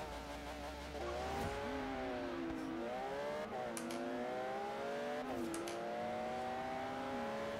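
Ferrari engine in Forza Horizon 3, a steady whining tone with pitch shifting through gear changes and revs, close and continuous without talk.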